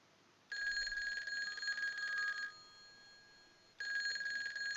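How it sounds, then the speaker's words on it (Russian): A telephone rings in the L.A. Rush racing video game, two bursts of electronic ringing with a pause between them, clear and alone at a modest level. "звонит телефон."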